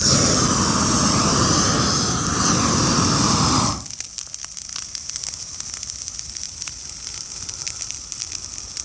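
A propane weed torch fed from a 5-gallon tank roars loudly for a few seconds during slash burning of weeds and vegetation, then cuts off abruptly, leaving a faint crackling burn of fire and quiet outdoor background.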